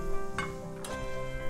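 Onion and olive oil sautéing in a pan for a shrimp risotto, giving a soft, steady sizzle with a couple of brief stirring clatters, close by and moderately quiet.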